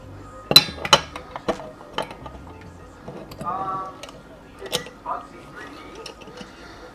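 Metal clinks and ticking mechanical clatter come from a metal workpiece being clamped in a milling vise. The sharp knocks are scattered and fairly close, with some quieter scraping between them.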